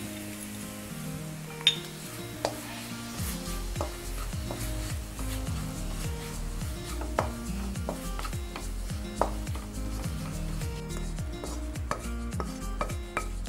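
Grated coconut being mixed with cardamom powder in a pan, with a steady run of scraping and stirring strokes and occasional sharp clinks of a spoon against the metal, close and even throughout.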